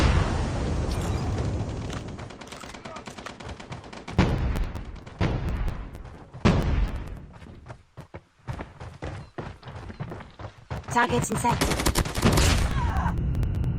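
Bursts of gunfire fill a Call of Duty Mobile match: rapid automatic volleys, sharp single shots and heavier booms, loud and close with short lulls between exchanges.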